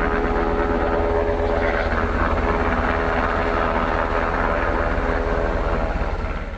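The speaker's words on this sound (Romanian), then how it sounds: "Ulterior, elicopterul se îndreaptă spre Dunăre." A firefighting helicopter carrying a Bambi Bucket water device flies overhead. Its rotor throb beats steadily and loudly under a constant engine drone, fading only slightly at the very end, with no talk.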